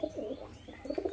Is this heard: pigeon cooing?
yes